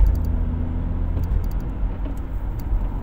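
A Volkswagen Golf engine rumbling steadily from inside the car while shifting into fourth gear on a city street, low and continuous with no clear gear-change break.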